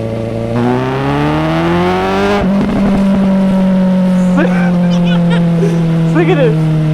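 A Suzuki GSX-S750 motorcycle exhaust drones and rises through the gears while riding, with a close steady engine note, a shift partway through, and people talking over it.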